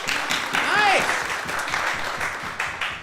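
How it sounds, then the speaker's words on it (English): Improv comedy theater crowd applauding and cheering, steady dense clapping with a few whoops and a whistle-like shout rising above it. "By a round of applause, who has never been to the Made Up Theater before? Make some noise."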